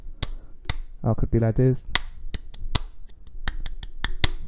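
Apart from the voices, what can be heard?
hand clapping to keep a tempo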